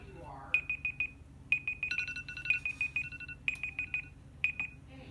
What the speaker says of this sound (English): set a timer for 1 second